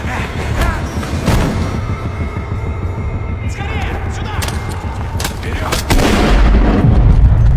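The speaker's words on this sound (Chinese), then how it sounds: "老莫跟着就是一枪，小男孩应声倒地" Gunshot from a pistol in a Spanish horror film, a single loud report among booming, thudding action sounds, with a voice speaking over parts of it.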